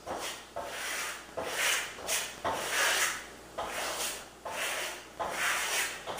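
A trowel spreads a translucent coat of Venetian plaster over an earthy yellow base coat in long, rhythmic scraping strokes, about six passes, close and steady, with no talk.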